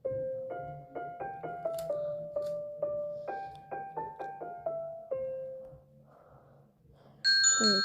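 A Vivint video doorbell plays a festive holiday chime melody, a series of clear bell-like tones stepping through a tune, followed by a short burst of brighter high jingling tones at the end.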